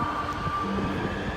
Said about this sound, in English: Now, as you can see, this is the subway.